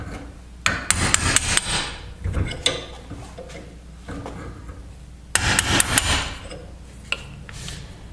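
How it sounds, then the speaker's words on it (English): Sharp metal hammer strikes drive a pin out of a car door hinge, coming in two quick bursts of several blows, close and loud, with scraping and knocking between them. "I'm just going to try to drive the pin out."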